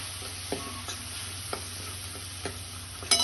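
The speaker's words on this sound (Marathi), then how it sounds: "आणि आता मी हळद टाकत आहे हे आपल्याला आता फ्राय करून घ्यायचं आहे" Turmeric frying in a pan while being stirred for pithla, heard as a low, steady sizzle with soft scrapes and light knocks from the stirring and no talking.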